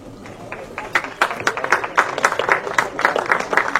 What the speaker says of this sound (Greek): Και τώρα ακούστε και το χειροκρότημα.